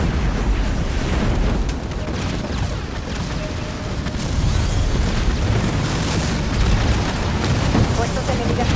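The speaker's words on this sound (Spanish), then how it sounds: "El enemigo destruyó uno de nuestros edificios." A building is destroyed in the Halo Wars 2 video game, bringing a continuous deep rumbling boom and battle noise that swells slightly partway through, with an in-game announcer voice speaking over it.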